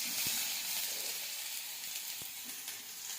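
Chopped onion sizzling in very hot oil for a chicken sukka, a steady bright frying hiss with a few soft pops and taps, close and without voices.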